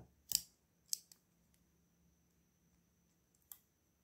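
A Leatherman Wingman multitool clicks sharply a few times as it is opened and closed, crisp isolated metallic snaps spaced apart in a quiet room, close by and alone.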